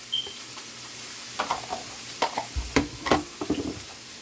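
Vegetables and garlic dropped into a hot pan, a soft sizzle broken by a series of clattering scrapes and stirring knocks, close and moderately loud.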